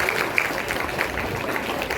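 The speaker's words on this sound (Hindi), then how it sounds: "इन बच्चों के लिए एक बार जोर से ताली।" Applause at a school Labour's Day celebration for the children: a steady, dense wash of clapping from a crowd filling the whole moment, fairly loud and even, with no break.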